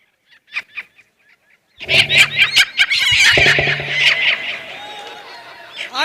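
A hen on sale at a village auction in Khairabad squawks and clucks loudly in a burst of harsh, overlapping calls after a few faint, brief calls.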